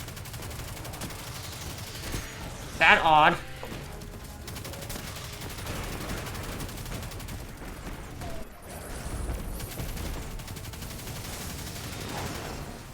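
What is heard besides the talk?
cannon firing in a video game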